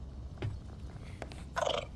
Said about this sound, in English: Look at that cat.